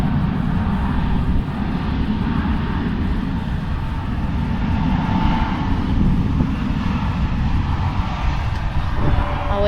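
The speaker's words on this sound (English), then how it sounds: "like there's the plane taking off" A steady, loud roar of jet engines from an airplane taking off at a nearby airport in Aruba holds throughout, a broad rumbling wash that swells slightly without fading.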